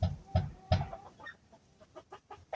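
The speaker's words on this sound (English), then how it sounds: "You'll hear some chickens and roosters and other animals in the background." Several chickens clucking in short, choppy bursts, fairly close, with a few softer clucks trailing off after the first loud calls.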